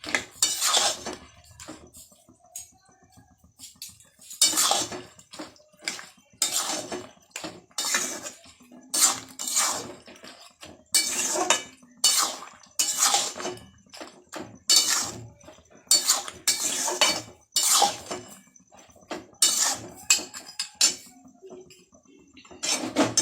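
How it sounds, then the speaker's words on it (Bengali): A spoon stirring boiling plum (kul) pickle in a pot gives repeated rhythmic scraping and clinking strokes against the metal, close and fairly loud, with short quiet gaps between. "মাঝে মাঝে এরকম নেড়ে নেড়ে দিতে হবে"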